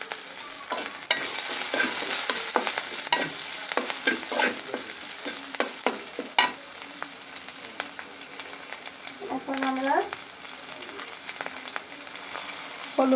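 Chopped green chilies fry in a pan for a Bengali fish curry with radish greens, a steady close sizzle broken by frequent sharp stirring scrapes and clinks throughout.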